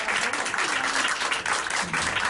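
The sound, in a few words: applause for a student at an end-of-year school show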